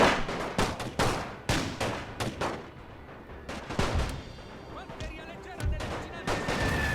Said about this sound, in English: they're coming under such heavy heavy artillery and I was about to say musket fire, but rifle fire, machine gun fire